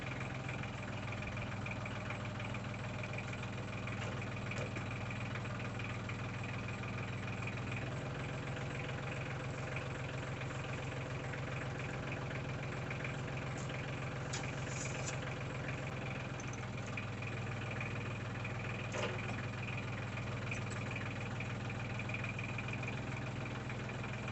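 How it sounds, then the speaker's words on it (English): A tractor engine runs steadily throughout while lifting near an old pig pen hut foundation, a continuous low idling drone with a slight shift in pitch partway through and faint clanks over the top. "I'm going to try and get on the tractor and lift this up a little bit and see what happens"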